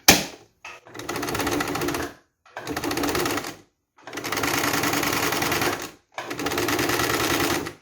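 A sewing machine stitching rows of Lastex elastic thread into fabric runs in four fast, loud bursts of rapid mechanical clatter, separated by short pauses of near silence.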